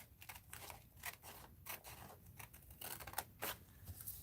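Scissors cutting through a paper bag to make a zine journal, a run of crisp uneven snips and crinkling paper, close and moderately quiet, with no voices.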